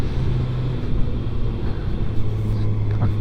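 A 2020 Kawasaki ZX6R sport bike engine hums and pulls under throttle on twisty roads, a steady low drone with shifting pitch and wind rush, heard from the rider's position.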